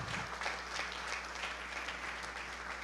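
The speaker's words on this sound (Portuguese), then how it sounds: "Fique de pé e aplauda o Senhor." A church congregation claps together in a steady, dense burst of applause that fills the space at a fairly even level throughout, with no voices standing out above it.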